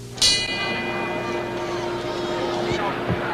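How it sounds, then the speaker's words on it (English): A boxing ring bell clangs once, sharp and ringing, signalling the start of round 6 in the 1974 Ali–Frazier fight, its tone sustaining over steady arena crowd noise and commentary. "And now the bell for round 6."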